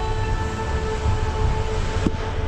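A train stands at a station on a hot day, its idling air-conditioning giving a steady low rumble and droning hum, with a brief clunk near the end and no talking.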